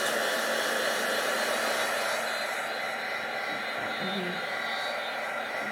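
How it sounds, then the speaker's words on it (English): A heat tool blows steadily to dry Memento ink on a craft project, a constant loud whooshing hum throughout with a voice speaking briefly beneath it. "I'll give it a wee bit of a heat, well, a bit of the drying that ink, because Memento takes a wee bit of time to dry."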